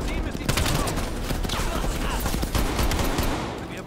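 Rapid gunfire bursts in the Call of Duty Cold War video game, dense and continuous across the clip, mixed with game action noise and low voices underneath.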